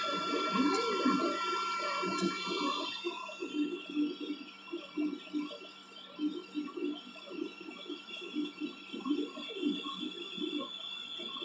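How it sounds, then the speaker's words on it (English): An old i2 mk1 3D printer works away quietly with soft, irregular stepper-motor whirs and buzzes in short bursts, fairly faint and with no talking. "Well, it is printing. It is printing properly."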